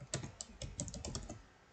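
Someone types on a computer keyboard in a quick, uneven run of close, light clicks and taps lasting under two seconds, fairly quiet, with no talk.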